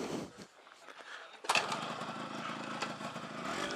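A Yamaha RX100 two-stroke motorcycle in Pokhara, Nepal, starts up suddenly after a quieter stretch, then runs steadily at a close, fairly loud idle with a raspy buzzing tone and slight fluctuations.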